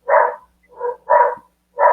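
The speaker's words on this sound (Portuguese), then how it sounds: "que minha cachorrinha está brava." A small female dog barks angrily in four short, sharp, loud barks spaced close together, nearby and alone with silence in between.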